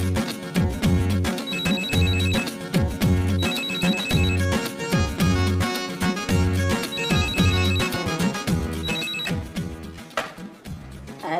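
A telephone ringtone plays a bright electronic melody in repeating phrases, loud and close, cycling several times before cutting off near the end, with no voices over it.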